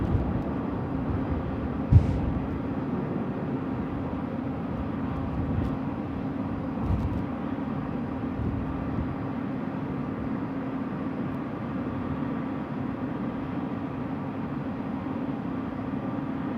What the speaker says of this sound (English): Looks like the Jetstar aircraft is now making its way